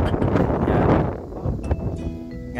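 Strong wind of about 36 knots roars and buffets the microphone in loud, gusty bursts, easing slightly toward the end as a few faint tonal sounds come through.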